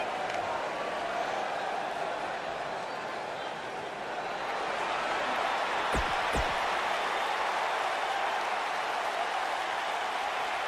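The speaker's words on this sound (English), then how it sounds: "The crowd is buzzing." A large crowd's broad, continuous roar in the wrestling video game WWE 2K19 fills the space, swelling slightly midway, with a couple of sharp thuds near the middle.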